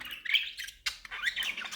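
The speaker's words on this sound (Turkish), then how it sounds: "Muhabbet kuşu Kaan." A pet budgerigar named Kaan squawks in two bursts of harsh, scratchy calls, separated by a short gap, with a quick sharp note between them. No one speaks over the calls.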